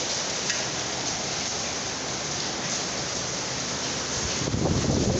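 Storm in Gazipur with strong gusty wind and hail battering outside, a dense, steady roar of wind and pelting noise throughout, swelling louder near the end.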